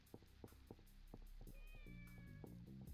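An orange cat meows in the video game Shenmue, a few short high mews rising over a steady game soundscape with background music.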